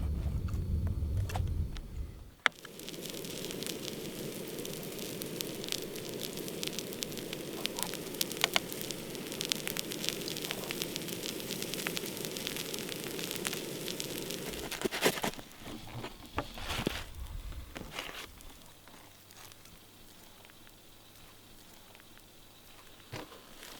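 An open outdoor fire near Pine Mountain Club, California crackles with a steady hiss and scattered pops, close and even for most of the stretch before growing quieter and sparser.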